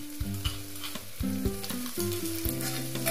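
Crushed garlic and ginger hit hot oil in a pan for black chickpea curry, crackling and sizzling steadily while a spoon stirs with light clinks throughout.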